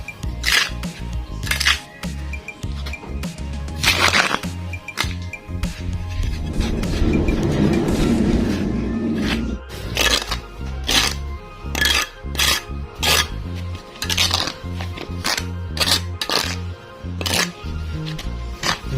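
Homemade bonsai fertilizer mix being stirred by hand, giving a rough, grainy rustling swirl in the middle, with scattered clinks and scrapes before and after.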